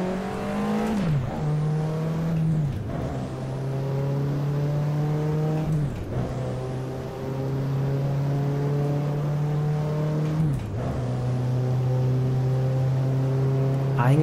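A Porsche 911 Turbo in Assetto Corsa revs hard and shifts up through its gears, each roaring climb in pitch ending in a sharp drop at the gear change, about four shifts in a loud, continuous run.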